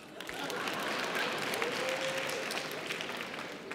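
Steady applause from a stand-up comedy audience fills the whole stretch, dense clapping holding an even level throughout.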